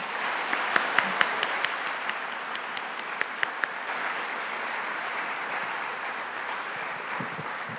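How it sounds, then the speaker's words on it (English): An audience at a math awards ceremony for girls claps for the event helpers, with a few sharp close claps standing out at first before settling into an even, steady round of applause. "So if we could all applaud all of our helpers, I would really appreciate it."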